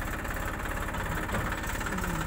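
A tractor bogged down in rain-soaked mud runs with a continuous, fairly close engine rumble and knocking vibration, alone and unbroken with no talk.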